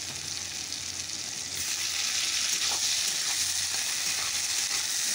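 Onions and tomatoes fry in a pan in a home kitchen, giving a steady, close sizzle with bright crackling throughout and a few faint stirring clicks, no voices.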